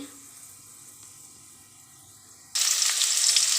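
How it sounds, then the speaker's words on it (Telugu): Tempering seeds and onions hit hot oil in a pan for a Telugu amaranth and moong dal fry, a quiet hum giving way to a sudden loud, steady sizzle that holds to the end. "పోపు గింజలో ఫ్రై అయ్యి ఉల్లిపాయలు వేసా"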